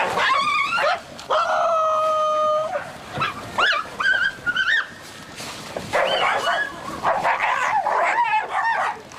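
A pack of wild dingoes in Australia feeds noisily, giving close, loud yips, whimpers and sharp barks in overlapping bursts with brief pauses between.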